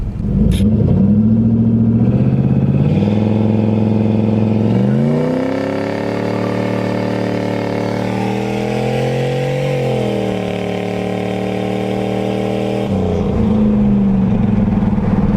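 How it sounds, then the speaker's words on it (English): A turbocharged Ford Thunderbird with a 3800 stall converter launches hard on a road, its loud engine roaring up through the revs, dropping briefly at each quick shift, then climbing again, close and continuous with no talk. "Pull out on the road and let it rip."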